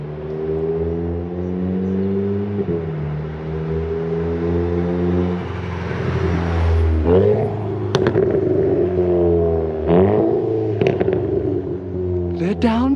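A VW Golf 7.5 R Stage 2 with a custom exhaust revs hard and downshifts, its engine droning steadily, then bursting into several sharp throttle blips and crackles, close and loud, with some talk over it.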